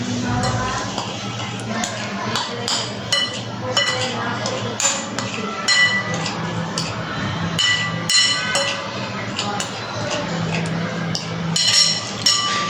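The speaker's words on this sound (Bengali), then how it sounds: "এখন মশলাটা আমরা মিক্স করে নিই।" Spice masala is stirred into a dish of noodles, with steady clinking and scraping of a utensil against a metal pan and repeated sharp chinks throughout.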